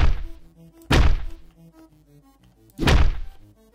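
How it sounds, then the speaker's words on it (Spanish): Two heavy, booming impact thuds from a violent brawl in the Hotline Miami 2 video game, roughly two seconds apart, each loud and decaying quickly over a low synth music bed. "Suena a hostia del copón, pero no mata"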